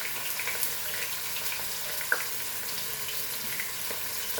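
Onion and tomato fry in a pan with a steady, even sizzle and hiss, faint and continuous, broken by a single small click partway through.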